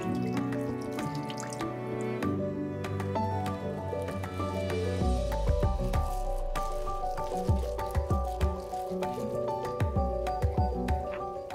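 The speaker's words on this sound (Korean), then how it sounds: "그대로 물 한 컵을 둘러준다." A cup of water is poured over thinly sliced pork belly and tofu in a pot, giving a gentle splashing pour, then wet squishing and dripping with soft clicks, fairly quiet and close.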